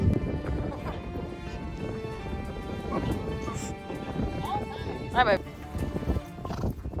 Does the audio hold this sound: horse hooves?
yes